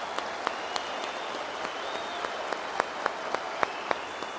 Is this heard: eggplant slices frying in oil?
no